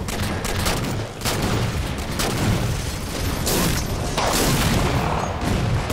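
Scattershot gunfire in a video game comes as loud, dense bursts of blasts and booms with mechanical clatter. The shooting is almost continuous, close and heavy, with no clear speech over it.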